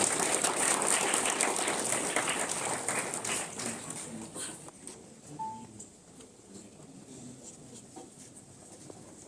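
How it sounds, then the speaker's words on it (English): Audience applause for a performer at a stage program in Meghalaya, loud dense clapping at first that thins and fades toward the end, with a faint tone and scattered noise underneath. "a big round of applause for Lavi."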